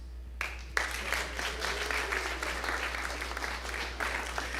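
An audience at a Sunday church service breaks into applause, a sustained dense clapping that starts abruptly and holds steady throughout, with a constant low hum underneath.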